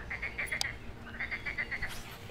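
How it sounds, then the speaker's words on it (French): Many frogs croak on a pond in a rapid, repeated chorus of short calls that rise and fall in two bursts, steady and fairly close, with faint background noise. "Comment ça chante là? Blindé de grenouilles."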